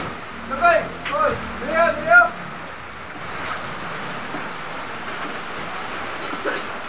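Steady hiss of rain across the whole stretch, with a few short voiced calls near the start before the downpour continues alone.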